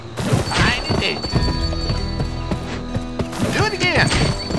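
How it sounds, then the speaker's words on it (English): Rhythmic hoofbeats of a galloping horse being spurred to sprint in the video game GUN, with a whinny, over game music and a speaking voice. "Press the sprint button to spur your horse."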